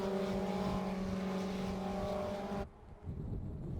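750 Formula race cars at Silverstone International speed down the Hangar Straight, a loud, steady engine drone that cuts off abruptly near the end, leaving a quieter rumble.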